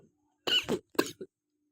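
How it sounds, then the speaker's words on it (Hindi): A close, quiet fit of coughing: two or three dry coughs in quick succession, then silence. "एकदम पढ़ते पढ़ते ना उठ जाती है खांसी"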